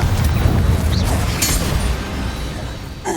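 Loud, rumbling blast from the Confringo spell in Hogwarts Legacy, a dense booming burst that fills the moment with crackling debris and low roar.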